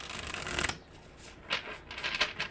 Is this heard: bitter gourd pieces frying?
no